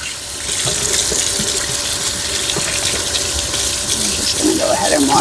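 A kitchen faucet runs steadily into a sink while hands are washed, a loud close gush of water with light splashing throughout.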